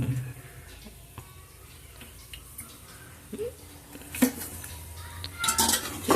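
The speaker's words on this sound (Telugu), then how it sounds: "ఇవన్నీ కలిసేటట్టు బాగా కలుపుకొని వేయించుకుందాం" Vegetables being stirred and fried with turmeric and chili powder in a pan for veg biryani, with scattered scrapes and clinks of a spoon against the metal over a low steady background.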